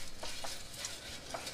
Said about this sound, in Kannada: ಸ್ವಲ್ಪ ಕೈ ಆಡ್ಬಿಡೋಣ